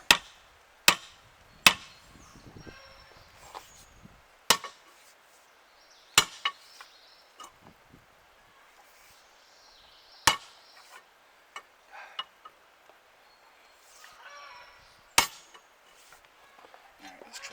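Rebar striking a stone: a series of sharp, close metallic clacks at irregular intervals, some hard and ringing, others softer taps, over a quiet background.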